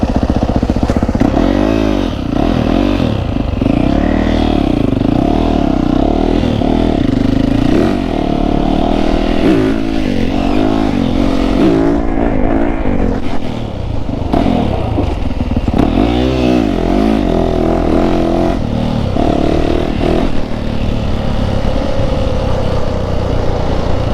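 A Yamaha YZF 450 Monster Edition dirt bike engine revs loud and close, rising and falling repeatedly in throttle blips over a steady rough drone, with no voices.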